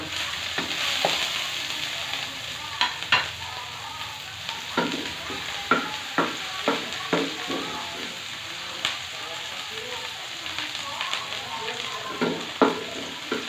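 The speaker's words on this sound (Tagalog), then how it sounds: "gisa na natin yung bawang, sibuyas, at saka yung luya" Garlic, onion and ginger sauté in a pan for pork menudo, a steady close sizzle punctuated by regular scraping and clacking stirs of a spatula.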